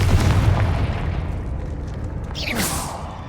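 A Confringo blasting spell explodes in Hogwarts Legacy: a loud, booming burst with a rushing whoosh, a sizzling flare near the end, and a low rumble that carries through the whole moment.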